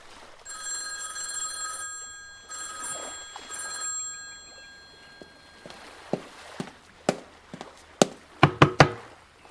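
A telephone in an audio drama rings with harmonic, tonal bursts in two clear rings, followed by a series of sharp knocks or footstep-like taps growing louder toward the end, with no talking.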